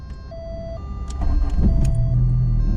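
A VR6 Jetta Wagon's engine turns over and catches, a low mechanical rumble that rises and settles into a steady close idle after a brief whirring crank, with no one speaking.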